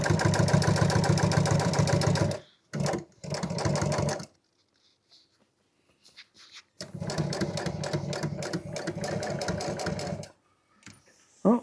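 A sewing machine stitches upholstery for a seat insert, loud and close, with a fast steady stitching drone that runs in bursts, stops, restarts briefly, then goes on for several seconds, separated by quiet gaps.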